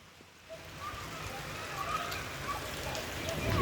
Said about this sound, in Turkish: Kayseri'ye yağmur yağdı.